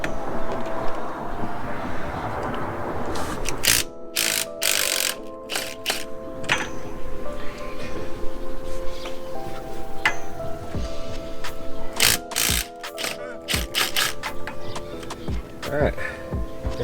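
Ratchet with a swivel bit working bolts loose on a 2015 Ram 2500 diff cover, bursts of quick metallic clicking recurring through the clip, close and fairly loud over shop background.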